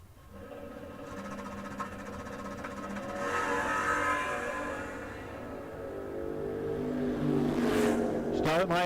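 A third-generation Camaro drag race car idles and revs at the start line, its engine a steady rough drone that swells and builds, with a sharp burst of noise at the end and a track announcer talking over it.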